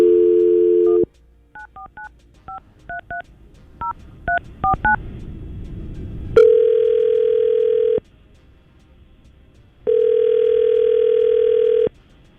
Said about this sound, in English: Let's call Renee right now.